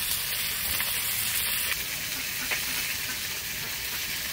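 Mustard oil sizzles in a pan during vegetarian Bengali cooking, giving a continuous close crackling hiss with no speech.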